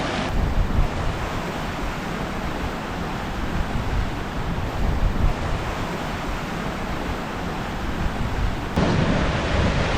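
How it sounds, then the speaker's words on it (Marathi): Ocean waves surge and crash over rocks at Bhandarpule beach, a continuous loud roar of churning surf with wind buffeting the microphone, rising again sharply near the end. "दगडधोंडे आणि इथे पाण्याचे लोंढे."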